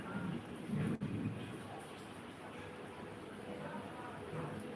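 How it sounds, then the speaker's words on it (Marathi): Rain falls in a continuous, fairly quiet hiss, with a low rumble of thunder rising briefly near the start. "इकडे बघा पाऊस चालू आहे दाखवते तुम्हाला"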